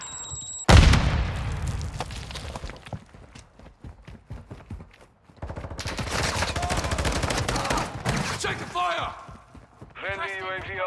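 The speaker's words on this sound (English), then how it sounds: "Throwing Semtex!" Gunfire and explosions in a Call of Duty: Modern Warfare II team deathmatch as a Semtex grenade is thrown: a loud blast opens, then dense bursts of shots and clatter, with shouted voices over the action.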